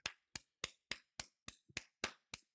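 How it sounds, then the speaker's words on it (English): One person claps steadily, about nine crisp, evenly spaced hand claps close by, with no talk over them. "I'm going to give a round of applause"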